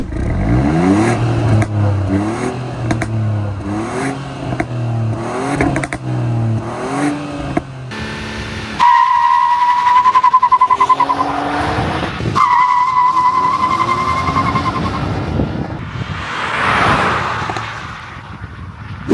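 A Stage 1.5 tuned MINI Cooper F56 engine revs and settles while the exhaust gives off rumbling burbles and crackles, loud and close, rising and falling over several throttle blips.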